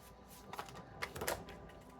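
Tarot cards being handled and shuffled, a dry papery riffle of quick flicks and taps with a few sharper bursts of card noise partway through, close and fairly quiet.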